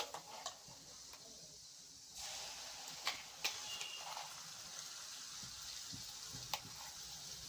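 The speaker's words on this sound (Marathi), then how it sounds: "आता थोडंसं परतून घ्या" Masala sautéing in a pan for fish curry, a steady sizzle and hiss with a few light scraping stirs and taps against the pan, close by and without talk.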